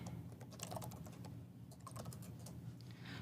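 Fingers tap steadily on a computer keyboard while working at a Linux command line, a quiet run of irregular key clicks with no talk.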